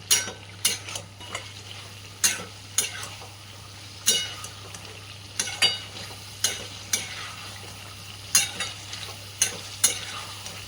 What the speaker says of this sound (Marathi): आता आपण याला छान मिक्स करून घेऊया।